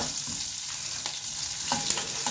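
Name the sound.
green chillies frying in hot oil after stove turned off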